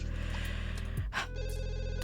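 A telephone rings in The Sims 2, a short electronic ringtone heard as repeated tonal bursts over steady game background sound.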